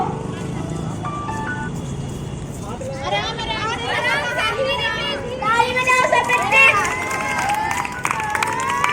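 Children at a village school sports day race cheer and shout together as the runners go, an excited crowd of young voices that grows louder and more shrill partway through, with an adult voice speaking early on.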